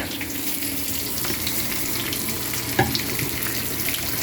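Bacon fries in a very hot pan, giving a steady, dense sizzle and crackle close by, with one brief clink partway through.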